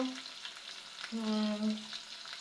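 Small onions and green chillies frying in a pan for a varuval, with a steady soft sizzle and faint stirring, fairly quiet and close, no talking.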